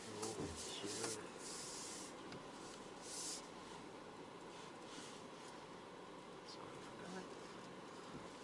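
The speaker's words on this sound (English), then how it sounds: "What's with the aircon?" Air conditioning in a 2023–2024 Porsche Cayenne blows with a faint, steady hiss, with soft rustles and brief puffs of airflow in the quiet cabin.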